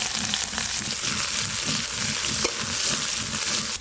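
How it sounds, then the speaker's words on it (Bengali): Chopped onions fry in hot oil with bay leaf, dried red chili and five-spice seeds, a loud, steady close-up sizzle with faint stirring scrapes and no talking. "পেঁয়াজ কুচিগুলো একটু ভাজা ভাজা হয়ে গেছে"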